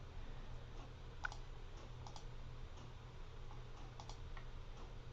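Computer keyboard typing, faint scattered key clicks in short irregular bursts over a steady low hum, with no voices.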